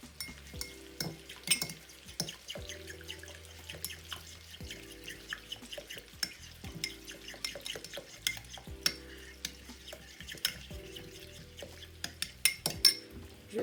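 Chicken shawarma marinade with olive oil and lemon juice being stirred in a bowl, giving a steady run of wet sloshing, scraping and light clinks of utensil against the dish, close and continuous with no talking.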